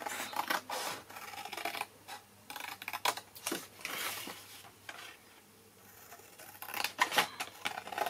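Scissors snip through paper for a Christmas gnome scrapbook album in short irregular bursts, close and fairly quiet, with rustling paper between the cuts.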